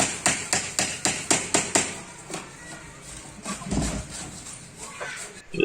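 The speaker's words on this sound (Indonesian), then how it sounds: "samping yang sedang mukul-mukul palu" A hammer strikes nails into a bamboo fence at an outdoor building site, eight sharp, evenly spaced blows close by, then scattered quieter knocks and shuffling with faint background noise.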